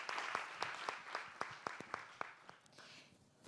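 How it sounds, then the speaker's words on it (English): An evening audience at a Bangkok ideas forum claps for the panelists, a thin and faint scattering of individual hand claps at a loose, uneven pace that fades out quickly. "A round of applause again for all of our panelists tonight."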